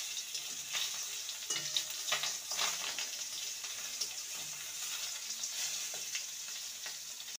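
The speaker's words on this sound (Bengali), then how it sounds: "পাতুরিগুলো ভাজা হয়ে গেছে। এবার এগুলোকে নামিয়ে নেব।" Parwal paturi, pointed gourd wrapped in parcels, frying in a pan with a steady, close hiss of hot oil and faint crackles throughout, with no voices.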